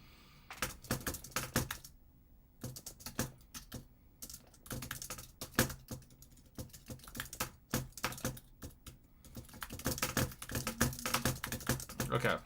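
Rapid typing on a computer keyboard, irregular bursts of clicking keystrokes with short pauses, fairly close and quiet, no talking.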